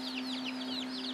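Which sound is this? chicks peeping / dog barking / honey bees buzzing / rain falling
chicks peeping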